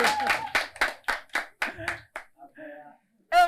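Rhythmic, evenly spaced hand claps from a small audience on a live show, cheering the winner, about nine sharp beats before fading into voices.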